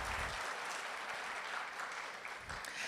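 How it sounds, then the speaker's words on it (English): An audience claps for graduates at a university Latinx achievement ceremony, a continuous even patter of many hands held at moderate volume in a large room for the whole stretch. "Please give a clap for yourselves."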